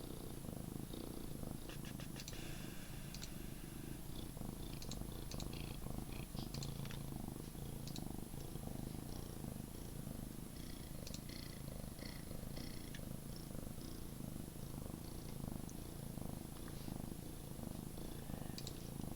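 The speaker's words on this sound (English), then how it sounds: "This is now an ASMR stream with my cat purring." A cat purrs close to the microphone, a soft, continuous low rumble that goes on steadily with faint clicks and rustles layered over it.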